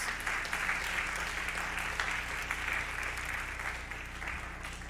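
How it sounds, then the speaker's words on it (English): An indoor audience at a spring sports awards ceremony claps for the parents with steady, moderately loud applause that tapers slightly toward the end. "give your parents a round of applause"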